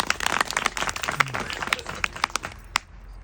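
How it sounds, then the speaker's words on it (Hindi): Audience at a live spiritual healing session clapping in a dense, fairly loud burst of overlapping claps that tapers off near the end, with faint voices underneath. "ताली जोर से"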